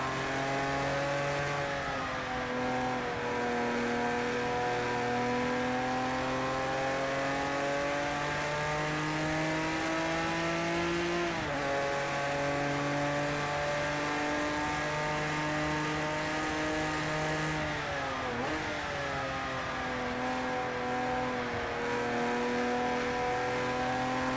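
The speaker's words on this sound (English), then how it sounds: "the sound of this engine just never gets old" A Porsche 911 Carrera RSR racing engine in the Project Cars game drones loud and steady on the Nurburgring Nordschleife. Its pitch drops sharply at two gear changes, then climbs again, with no talk over it.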